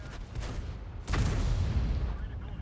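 A World of Tanks tank fires its main gun, a sudden heavy boom at about one second that rolls into a sustained rumbling roar over a constant low battle drone.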